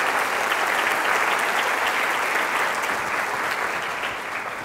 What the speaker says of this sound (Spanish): Den un aplauso a su familia, porque ustedes vienen de una familia.